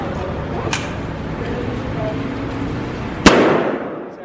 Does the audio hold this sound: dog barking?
no